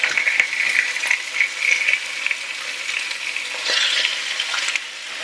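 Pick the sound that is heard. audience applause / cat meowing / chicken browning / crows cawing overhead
chicken browning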